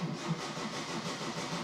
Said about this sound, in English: So now I'm going to crank the car